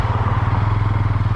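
A Honda Grom motorcycle riding around town on a warm day, its small single engine thrumming in a steady, loud pulsing drone with rattly clatter, no talking.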